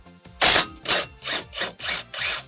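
A wrench ratchets a 14 mm bolt loose from the front lower control arm of a Suzuki Wagon R MH21S. Six quick, loud, rhythmic ratcheting strokes sound close up.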